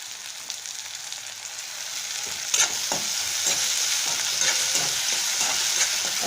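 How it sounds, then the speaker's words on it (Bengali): Chopped tomato goes into hot oil with onion and cumin for a potol chingri curry; a soft frying hiss swells into a louder, bubbling sizzle with a few spatula knocks, close up and without speech. "টমেটো কুচি দিয়ে দিচ্ছি।"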